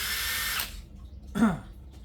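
A Flex two-speed hammer drill whirs loudly for about half a second, then stops, and a brief second burst follows, close up and with no one talking.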